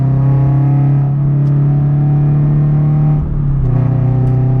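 A car's exhaust rumbling while driving, heard from inside; a loud, steady low drone holds, then dips briefly and picks back up, with no speech over it.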